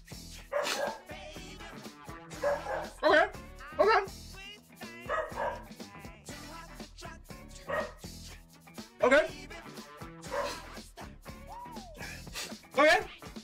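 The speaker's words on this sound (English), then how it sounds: "Mind the dog barking, I should have closed the door." A dog barks repeatedly from behind a door, sharp irregular barks and yips scattered through the clip while people talk over them.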